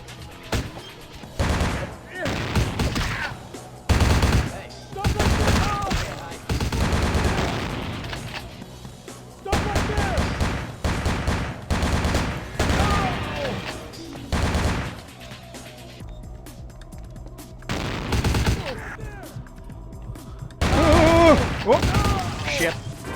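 Gunfire in the vampire RPG Vampire the Masquerade Bloodlines, with repeated bursts of loud shots in clusters separated by short gaps, mixed with game sounds and some talk.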